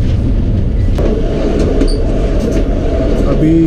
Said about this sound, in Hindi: अभी यारू स्टेशन की तरफ अप्रोच कर रही है ट्रेन हमारी।